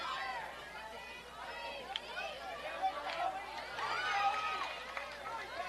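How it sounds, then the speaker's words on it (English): Spectators at a baseball game near Cooperstown chatter, a few hundred people producing a faint, distant, continuous babble of overlapping voices with occasional louder calls. "Nice crowd here, by the way. You can hear them from our field mic."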